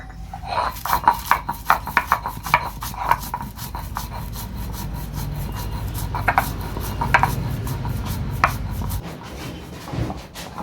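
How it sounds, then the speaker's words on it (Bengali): Roasted cumin seeds and dried red chillies are ground into powder, giving a steady whirring grind with gritty rubbing and clicking taps, continuous for most of the stretch before stopping near the end. "এবার মশলাটাকে আমি গুঁড়ো করে নেবো"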